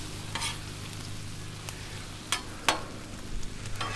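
Canned pineapple rings sizzle softly in a pan, a quiet frying hiss broken by a few sharp crackles and pops, with no talking.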